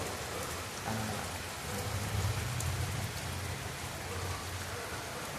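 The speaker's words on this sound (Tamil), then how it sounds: "நல்ல மழை தான்" Steady heavy rain pours down in a continuous broadband hiss, loud and unbroken throughout, with faint low murmuring voices beneath the downpour.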